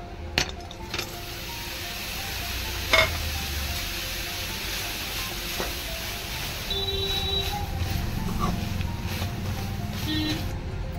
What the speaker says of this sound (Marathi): कढई तापली, आपण आता त्याच्यामध्ये किसलेला गूळ टाकूया।